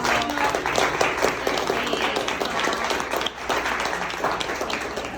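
An audience claps steadily for several seconds, a dense, sustained patter of many hands without pause.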